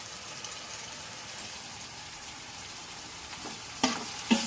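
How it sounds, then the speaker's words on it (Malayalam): Onions and tomato frying in a pan for a Kerala-style chicken curry, a steady soft sizzle throughout with two brief louder bursts near the end as the mix is stirred or added to. "ഉള്ളിയൊക്കെ വറണ്ട് വന്നിട്ടുണ്ട്. കുറച്ചുകൂടി വറണം നല്ല രീതിയിൽ. കുറച്ച് തക്കാളിയും കൂടി നമുക്ക് ഇട്ട് കൊടുക്കാം."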